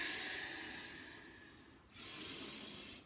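Air is drawn in through the nose during a Pilates and chi kung breathing exercise: two steady, hissing inhales separated by a brief pause, close and fairly soft, with no talking.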